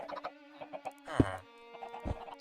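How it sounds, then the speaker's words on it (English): Minecraft chicken farm with game chickens clucking in short, scattered bursts, one louder squawk near the middle, fairly close and alone with no talk. "And the chickens will gather in the bottom."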